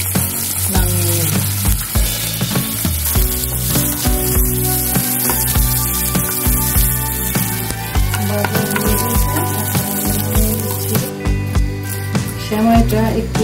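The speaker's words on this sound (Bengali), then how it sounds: "সেমাইটা একটু ঘি দিয়ে ভাজা করে নিচ্ছি।" Vermicelli (semai) frying in ghee for Bengali milk shemai, a loud continuous sizzle close by with frequent stirring clatter, over background music.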